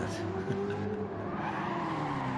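Tires squealing from a drifting Subaru BRZ in the racing game Gran Turismo 7, a steady sustained screech over a loud engine drone throughout, with no talk.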